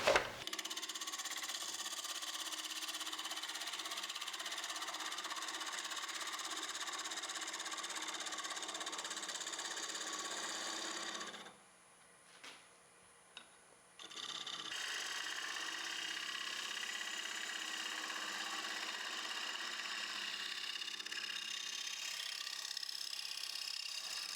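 A lathe cuts a recess in a cocktail smoker with steady, continuous machining whine and broadband cutting noise, pausing briefly midway before resuming at the same level.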